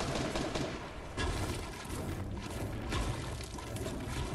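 Rock being smashed apart in Fortnite, a dense run of loud game impact and crumbling crash effects that keeps going without a break, with no voices over it.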